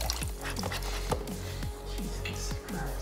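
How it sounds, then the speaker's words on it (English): A whole package of bone broth glugs into a pot for green chili chicken soup, rhythmic gurgling pulses from close up with no one talking. "Next, we're going to add our whole entire thing of bone broth."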